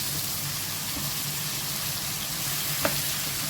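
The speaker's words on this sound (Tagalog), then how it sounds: "Habang igigisa natin siya" Corned beef sautés in a pan with a soft, steady sizzle and faint stirring scrapes, fairly quiet and with one brief clink near the end, no voices.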